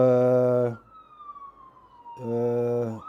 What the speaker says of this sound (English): let's just wait for the sirens to go past